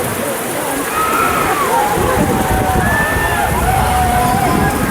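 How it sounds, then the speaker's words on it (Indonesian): Rain pours down steadily at an outdoor football match, a dense broadband hiss that swells partway through, with voices talking and calling over it. "Hujan coy."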